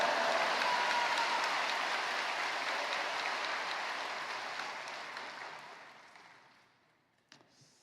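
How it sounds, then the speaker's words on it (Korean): A church congregation applauds to welcome a missionary to the pulpit. Dense, steady clapping fills the room, then gradually thins and fades away to near silence, with no talking over it. "큰 박수로 맞이하시겠습니다"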